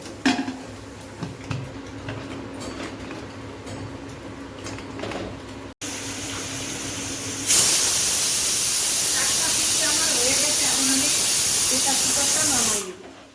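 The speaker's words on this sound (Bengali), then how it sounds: "আমি প্রেসার কুকারটা খুলে ফেলব" A pressure cooker of dal vents steam. A steady hiss and kitchen clatter come first, then a loud, close, sustained blast of steam runs for about five seconds before cutting off.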